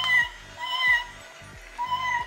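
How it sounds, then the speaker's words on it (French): A small cat meows repeatedly, about five short, close, clear calls spaced at a steady rhythm, with quiet gaps between them and no talk. "C'est un petit chat."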